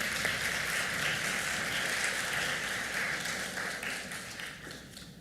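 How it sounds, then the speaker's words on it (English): A crowd at a medical school class day ceremony applauding steadily, dense clapping that gradually fades near the end. "Round of applause for the MPH program."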